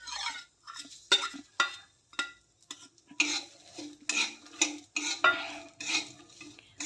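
Garden cress seeds roasted in ghee in a pan with makhana and dry fruits for kheer, heard as repeated scraping, stirring strokes and light utensil clinks in an uneven rhythm, close and with no talk.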